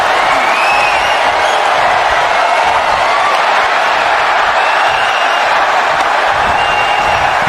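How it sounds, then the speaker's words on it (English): A large arena crowd in WWE 2K25 cheers through a Raw wrestling match, making a constant loud roar of voices with faint whistles and whoops rising above it. The sound stays steady and dense the whole time. "the crowd is loving what they are seeing"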